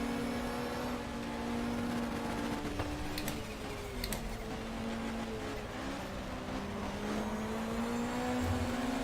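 Race car engines drone steadily in the GTR 2 video game during a 1993 BTCC round at Donington Park GP. The tone shifts slowly as the cars run and a couple of sharp ticks cut through, with no talking.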